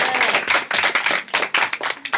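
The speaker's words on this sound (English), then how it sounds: "Live audience, give yourselves a round of applause." A small live audience of about twenty students claps together close by, the separate hand claps sharp and uneven throughout.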